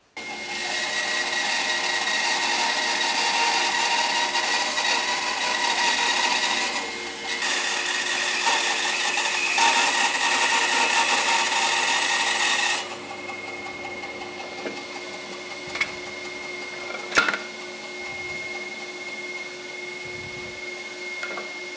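A bandsaw running loud and steady while freehand cutting the back off a wooden box, the blade's whine under load for about twelve seconds before easing to a quieter idle hum with a few knocks.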